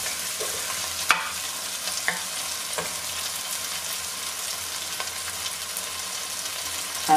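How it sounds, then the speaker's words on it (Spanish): Rice being stirred as it toasts in oil in a pan, a constant close sizzle with intermittent scrapes and taps of a spoon against the pan, no voices. "Ahora esto lo vamos removiendo así un poco."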